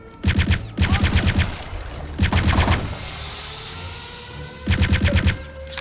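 Venom chaingun in Return to Castle Wolfenstein firing in four loud, rapid bursts of fast repeating shots, with echoing decay and ambient rumble between bursts.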